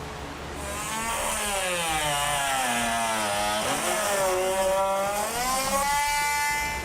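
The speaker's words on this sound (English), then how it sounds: "I'm just going to take a rotary tool with a cutting blade" A rotary tool with a cutting blade whines as it cuts into the plastic rear bumper of a 2007 Infiniti G35, its pitch rising and dipping steadily up close with no talking.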